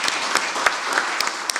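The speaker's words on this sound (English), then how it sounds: "I'll ask you to give him another round of applause." An audience at a peace, security and justice symposium in Musanze, Rwanda gives a speaker another round of applause: a soft, steady patter of many hands with a few sharper individual claps popping out.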